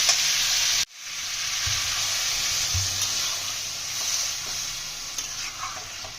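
Steady loud sizzling of a drumstick and potato fish curry frying in a pan after water is poured in, with a brief dropout near the start, then continuous hiss and bubbling with occasional soft clinks.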